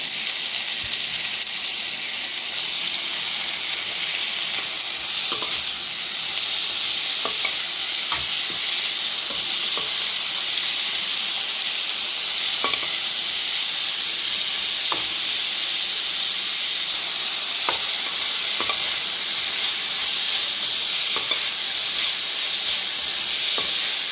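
Tomatoes and onions sizzle steadily in a pan for pepper chicken curry, a loud continuous hiss of frying with occasional soft stirring clicks and scrapes throughout.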